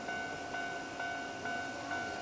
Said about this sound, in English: There's more trains coming, but they're on the other side of the tracks.